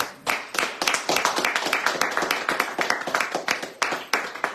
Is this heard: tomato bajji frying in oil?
no